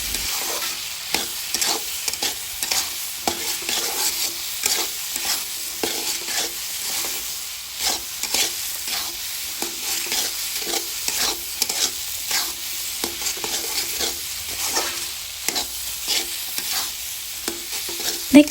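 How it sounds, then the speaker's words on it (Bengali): Chickpea bhuna with cumin frying in a pan while it is stirred. The steady sizzle runs throughout, broken by repeated scraping and clinking strokes, close and fairly loud, with no voices. "জিরার ফাঁকি দেওয়ার পরেও নেড়ে চেড়ে আরও 5-6 মিনিটের মতো জাল করে নিচ্ছি।"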